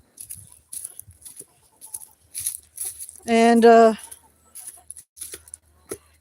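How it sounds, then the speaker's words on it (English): Chickens and a rooster on a small farm during evening chores, with one loud, drawn-out call standing out midway amid scattered quieter clucks and rustling. "Oh, these are our chickens."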